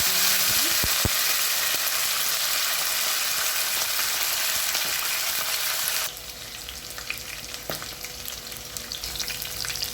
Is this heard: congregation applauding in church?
no